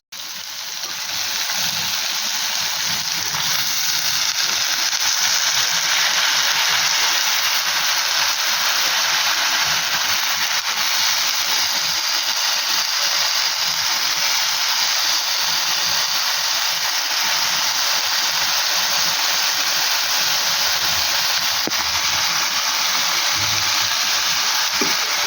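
Greens (saag) fry in a pan with a loud, constant, even hiss of sizzling oil that runs unbroken throughout and holds no distinct stirring clatter.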